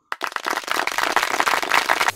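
A burst of applause from a crowd breaks out abruptly and carries on as dense, loud, steady clapping to the end.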